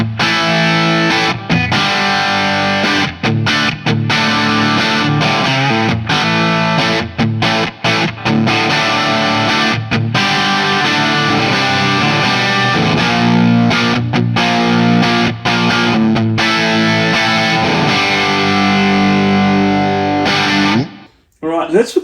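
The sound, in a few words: electric guitar through 1970 Marshall JMP 50W amp, humbucker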